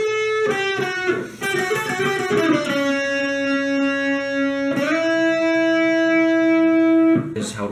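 Electric guitar playing part of the solo from a song: a few picked notes sliding into long sustained tones, clean to lightly driven, heard alone and fairly loud.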